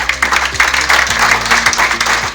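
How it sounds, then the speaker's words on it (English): Loud, close crowd applause for the ambassador of Nigeria at a speech event in Kampala, Uganda, with a continuous wash of clapping and a steady low tonal hum running underneath. "please, let's give him a wonderful applause."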